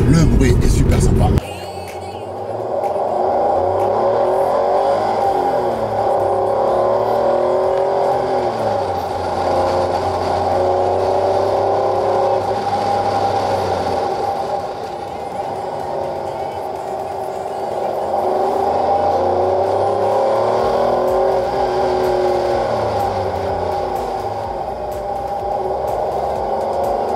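A Porsche 911 Type 964 Carrera 2 flat-six engine driving on the road, a loud steady drone from inside the car rising and falling in pitch through two long acceleration sweeps.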